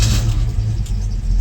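A car engine fires up in a shed and settles into a loud, steady low rumble with a brief rev near the start, close by with no talk over it.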